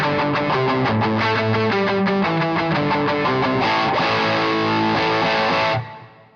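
An electric guitar through a distortion pedal plays sustained, saturated chords and notes for several seconds, heavily distorted, then rings out and fades at the end.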